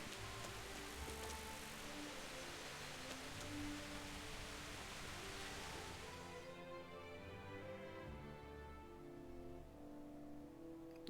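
Rain in the video game Kingdom Come: a steady, dense hiss of downpour over soft background game music, then the rain cuts out abruptly around two-thirds through, leaving only the music.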